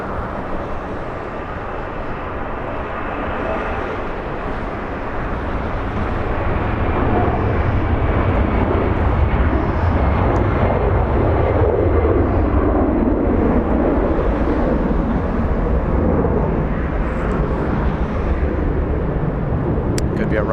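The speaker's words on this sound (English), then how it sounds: "Delta Airlines A380 flying to Reagan National." Deep, broad roar of a Delta Airlines A380 airliner at LAX, a loud continuous rumble that swells and holds steady throughout.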